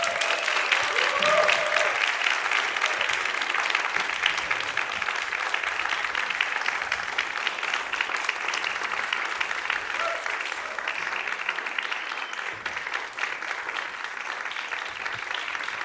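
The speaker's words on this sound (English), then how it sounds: "Please, big round of applause for our three guests." Crowd at a jazz festival masterclass giving three guests sustained, loud applause, a thick continuous clatter of hands lasting the whole stretch, with some cheering and voices mixed in.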